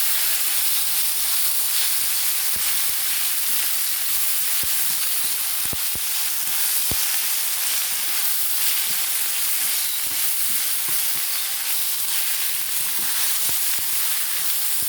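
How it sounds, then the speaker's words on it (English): Tomatoes stirred into rice frying for red rice produce a loud, constant hissing sizzle, with scattered faint clicks and taps of the spoon throughout and no voices. "Now I'm going to go ahead and stir the tomatoes into the rice."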